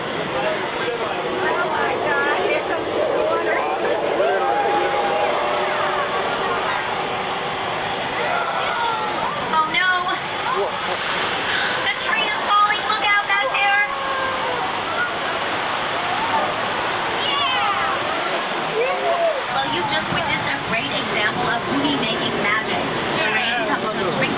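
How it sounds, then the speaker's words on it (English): A staged flash flood at Universal Studios in Hollywood, thousands of gallons of recycled water dumped from hillside tanks, roars as loud, continuous rushing water for the whole stretch, with voices mixed in. "the flood was created by dumping several thousands of gallons of recycled water from tanks on the hill"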